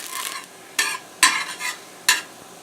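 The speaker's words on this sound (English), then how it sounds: "Stir that around a little bit, get any fried bits off the bottom of your pan." A spoon scrapes fried bits off the bottom of a hot pan in four bursts of stirring, each a short scratchy rasp above a faint ongoing sizzle, close and with no voices.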